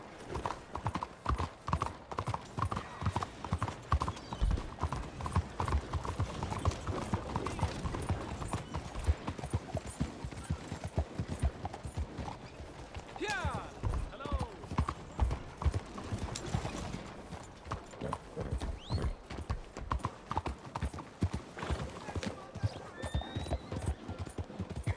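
Horse hooves clip-clop steadily in the Red Dead Redemption 2 video game, a close, even rhythm of trotting steps running throughout, with a brief whinny and faint speech in places.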